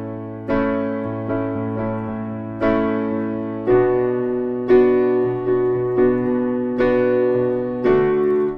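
A piano plays the chords of a song in a back-and-forth eighth-note pattern, clear solo chords struck in a steady rhythm, close and alone.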